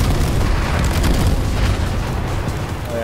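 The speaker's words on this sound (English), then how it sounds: "Airstrike." An airstrike pounds the ground in a video game, a loud, continuous rumbling roar of overlapping blasts that slowly tapers off, with no voices.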